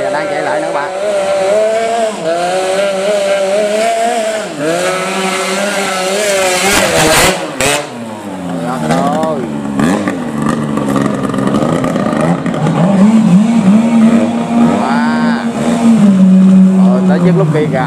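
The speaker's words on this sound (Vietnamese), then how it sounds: "cái máy hồi nãy nè đang chạy lại nữa các bạn" Two-stroke racing motorcycle engine at a practice run, revving hard with rising and falling whining pitch, loud and close, with people talking excitedly throughout.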